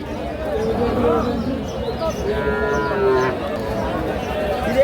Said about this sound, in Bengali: জোয়ান বয়সের গাভী।